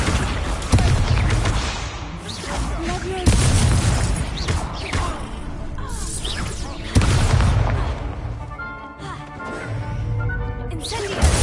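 Confringo spell blasts in the wizarding game Hogwarts Legacy, three heavy booming explosions spaced a few seconds apart, each striking sharply then rumbling off, with game sounds and a voice in between.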